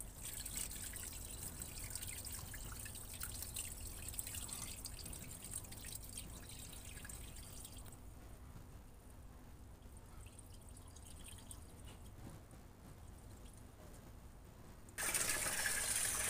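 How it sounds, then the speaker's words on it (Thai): Water trickles and drips faintly while sprouting mung beans are rinsed several times, a soft continuous wet patter with a louder splash near the end. "พี่สาวเพิ่นก็จะล้างน้ำเนาะ เพิ่นบอกว่าล้างจัก3-4น้ำจนน้ำใสจ้า"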